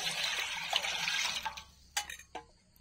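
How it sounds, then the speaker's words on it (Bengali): Lime water is poured over pierced ash gourd pieces in a kitchen, a soft splashing pour that fades after a second or two into a few faint drips and trickles. "চাল কুমড়াগুলো ফুটা করে হয়ে গেছে, এবার চুনের জল দিয়ে ভিজাই রেখে দিব।"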